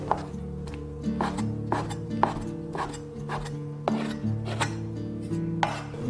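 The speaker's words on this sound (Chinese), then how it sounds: "接下来准备洗净的里脊肉，我们先给它切片， 然后再改刀切丝" A knife cutting washed pork tenderloin into slices and strips on a board, with a steady series of close, moderately loud chops and scrapes.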